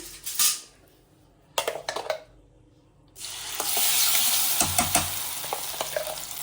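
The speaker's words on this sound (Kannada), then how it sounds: "ಈ ಮಸಾಲೆ ಎಲ್ಲ ತುಪ್ಪದಲ್ಲಿ ಚೆನ್ನಾಗಿ ಫ್ರೈ ಆಗಬೇಕು" Crab ghee roast masala fries in hot ghee, with sharp scrapes and clinks of a spoon against the pan, then a loud continuous sizzle rising and holding close by.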